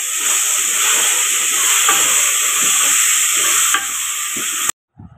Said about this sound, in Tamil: 2 நிமிஷம் வதக்கட்டும்.